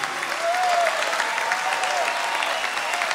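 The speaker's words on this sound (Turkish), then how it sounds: "Alkışlar lütfen." Steady audience applause fills a big band concert hall, a dense continuous clatter of clapping hands at even loudness throughout, with no voices standing out.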